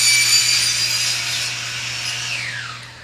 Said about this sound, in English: While I wait for them to stop sawing,